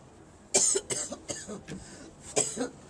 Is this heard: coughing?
yes